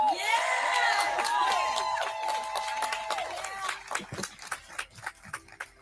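An audience at a Capitol Hill gathering welcomes a speaker to the podium with scattered whoops and cheers, then sharp, uneven claps that thin out toward the end.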